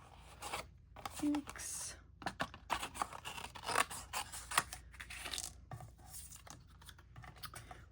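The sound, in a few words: scissors cutting out stamped card paper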